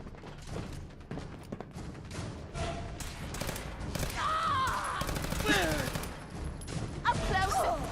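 Bursts of Fallout 4 gunfire sound in rapid fusillades, with sharp repeated shots and mechanical clatter growing denser over several seconds, mixed with shouting voices.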